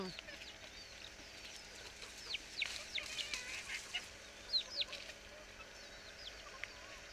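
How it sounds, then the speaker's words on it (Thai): Chickens cluck and chirp in short bursts over a steady outdoor background, with faint voices now and then. "แบ่งให้ไก่ด้วย ไก่เยอะแยะเลย"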